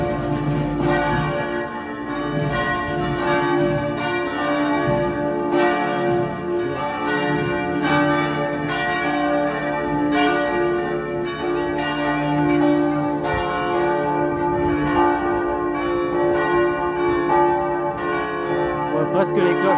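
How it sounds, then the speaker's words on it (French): Church bells ringing from a small village church in the Aveyron, a dense, steady peal of overlapping strikes sustained loudly throughout without pause. "On voit presque les cloches se balancer."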